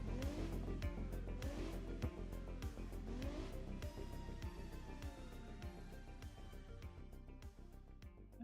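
BeamNG racing game car engine revving loudly with rhythmic gear shifts and tire squeal, dense mechanical drone continuous throughout, close and full.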